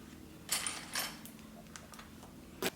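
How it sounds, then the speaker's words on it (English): Scissors snip fabric piping in a few quick, close cuts, two crisp clips near the start and another near the end, with faint mechanical clicks between them. "Let's clip the piping into place."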